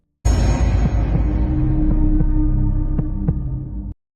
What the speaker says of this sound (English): his heart thudding loudly in his chest